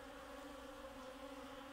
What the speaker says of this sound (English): How come Yumi is allowing the bee to roam around the shop freely?